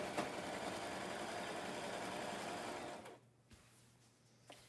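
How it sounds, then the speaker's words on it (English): A cheap Walmart sewing machine stitches a quilt with a steady, close mechanical whir for about three seconds, then stops abruptly, leaving near silence with a brief knock near the end. "I'm moving a little bit through and stopping so that I can adjust what's up on the table area of the sewing machine"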